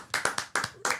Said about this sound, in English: Round of applause to Roger right now.